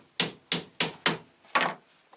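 A hammer strikes soft, supple wood in a workshop: five sharp, evenly spaced taps, fairly close and loud, with no talking over them.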